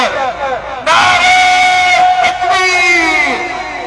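A large crowd at a religious gathering shouts a slogan in unison, a loud burst of massed voices that starts abruptly, holds, then surges again in a second wave.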